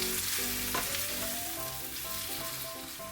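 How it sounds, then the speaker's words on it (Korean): Tomatoes stir-frying in scallion oil for a tomato egg stir-fry, a loud, steady sizzle filling the whole stretch with soft scraping stirs over it and no talking. "토마토 넣어 살살 볶다가"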